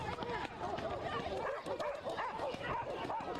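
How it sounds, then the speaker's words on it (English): Police dogs bark and yelp excitedly at a street protest, with rapid, overlapping barks against crowd noise and voices talking. "Look at the dogs."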